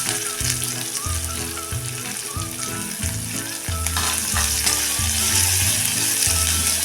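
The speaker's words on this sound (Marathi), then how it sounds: "थोडासा मऊसर होईपर्यंत हा कांदा आपण परतून घ्यायचा आहे" Onion sautés with lentils in a pan for dosa-style potato bhaji, producing a strong, close sizzle under rhythmic scraping strokes of a spatula that grow louder partway through.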